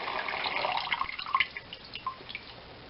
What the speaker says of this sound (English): Now we lift our colander out.